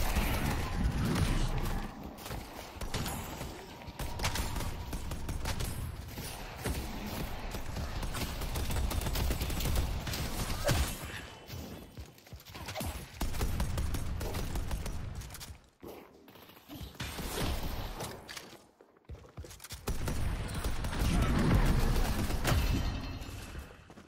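Rapid gunfire from a deployed turret in the shooter game Deadlock, dense bursts of shots running almost continuously with brief pauses, loud and close amid other battle noise.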